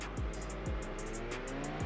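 Truck engine droning loudly in the BeamNG driving game, with repeated rising whines and tire squeals cycling through a steady, busy roar, no talk over it.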